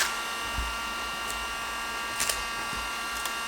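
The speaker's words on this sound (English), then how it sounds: "we'll actually start physically welding on the masking tape" A hot-air welder blows a steady airy hiss while welding a synthetic teak panel over masking tape, with faint occasional clicks and knocks, close and continuous throughout.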